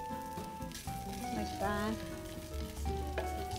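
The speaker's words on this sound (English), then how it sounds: "I want to make sure this doesn't stick to my frying pan, so I'm just going to put a little bit of oil, just a tiny bit" Oil sizzles and crackles steadily in a frying pan as a frittata is started, a continuous frying hiss beneath light background music, with a brief spoken phrase near the start.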